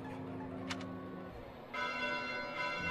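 Church bells ring late at night in Fire Emblem: Three Houses, heard as a sustained, resonant tolling over a low ambient hum, with a brighter, fuller chime swelling in partway through.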